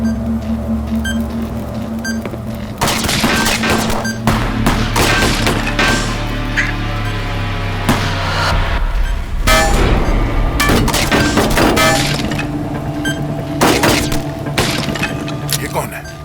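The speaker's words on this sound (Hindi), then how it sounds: "ये कौन है? कहां से गोली चला रहा है?" A gunfight in a TV crime drama series rings out with sharp bursts, crashes and impacts mixed with dramatic music and shouting voices, loud and busy throughout.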